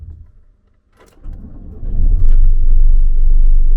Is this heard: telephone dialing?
no